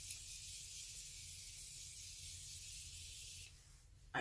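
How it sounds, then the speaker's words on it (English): A Morphe makeup setting spray hisses in one long continuous burst lasting several seconds, close and steady, then cuts off sharply. "I learned to not speak while I spray that."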